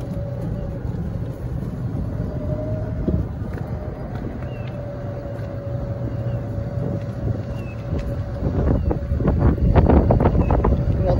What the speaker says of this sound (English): I'm now going to take the golf cart on a drive